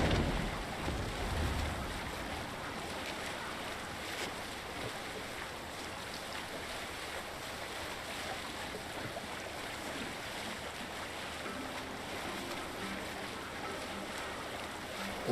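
Viking longship under sail in Assassin's Creed Valhalla, a steady broadband wash of waves and wind rushing against the hull, constant and fairly loud throughout with no voices.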